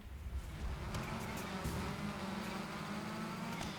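A car engine in the Gravel racing video game hums and drones steadily at moderate loudness throughout, with a sustained tonal note and no speech.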